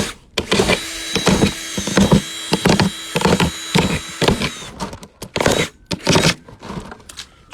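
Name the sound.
drilling holes with small drill bit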